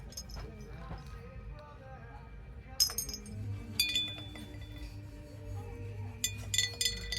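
Fused glass jewelry is handled in an antique shop, giving light, scattered clinks and small glassy taps. A few louder bursts rise over a steady low shop hum.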